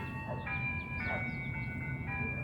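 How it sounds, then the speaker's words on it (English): An ice cream truck rolls past on a street, its repeating electronic jingle ringing out in steady tonal notes over constant traffic rumble, while people talk nearby. "where's the ice cream truck at?"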